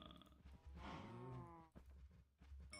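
Cows in the Minecraft video game give a single long, drawn-out moo with a grunting start, loud and near, alone without talk.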